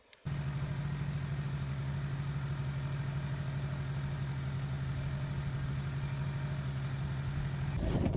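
A 1999 Ford Taurus SE with a DOHC engine and a newly replaced power steering pump starts up and runs at a steady idle, a constant close engine hum with no talking.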